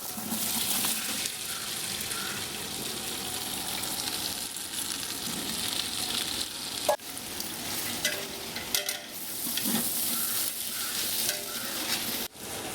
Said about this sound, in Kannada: ಎರಡೂವರೆ kg ಅಷ್ಟು ವೆಜಿಟೇಬಲ್ಸ್ ಹಾಕ್ತಾ ಇದ್ದೀವಿ